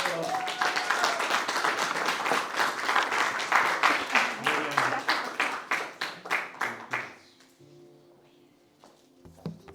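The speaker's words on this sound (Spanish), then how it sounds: "Vamos a dar un aplauso." A church congregation claps in rhythmic unison, strong and steady, then the applause fades out and quiet music is left behind.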